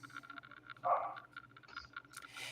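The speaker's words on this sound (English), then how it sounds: "Dogs are barking." A single bark from a dog at moderate distance, faint and brief, over a low steady background hum.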